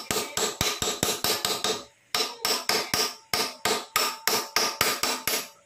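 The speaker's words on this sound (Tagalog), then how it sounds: "meron kayong mga bakal na ganito, pang pukpuk dito sa likod" A steel rod is struck with a hammer to knock a bearing out of a Yamaha Mio i 125 scooter: a rapid run of sharp, loud metallic blows, a short pause, then another even series, all close up.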